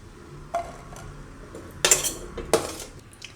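Boiled green chickpeas being scooped out of a pot onto a plate, a few sharp metallic clinks and scrapes of a spoon against cookware, separated by quiet pauses.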